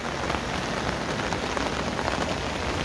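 Heavy rain pours down during a flood in Kathmandu, a dense, steady hiss of drops drumming on surfaces, loud and unbroken with no voices.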